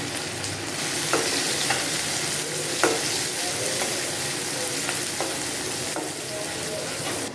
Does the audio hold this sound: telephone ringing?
no